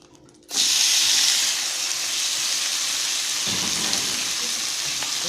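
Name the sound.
bacon frying and crisping in a pan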